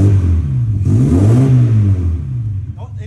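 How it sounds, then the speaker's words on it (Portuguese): A Volkswagen Amarok V8 biturbo engine revs up close and loud, its deep note rising and falling in one throaty sweep before settling back toward idle. "Dá uma acelerada aí pra você sentir o rumo."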